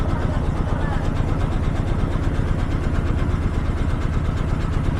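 A trawler's engine drones steadily as the boat travels on the Padma river beside the Padma Bridge. The low, even throb is loud and constant throughout.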